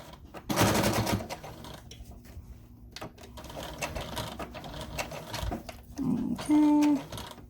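Sewing machine stitching a plastic bag holder, a faint intermittent mechanical whir with short runs and clicks, ending in a brief louder burst of stitching.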